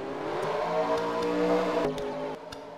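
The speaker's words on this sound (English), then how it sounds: "these drivers fire away their engines on the back straightaway" Race car engines firing up together on the back straightaway before the All-Star Showdown, a steady loud layered engine drone with rising pitch, then a brief dip and a renewed burst of revving.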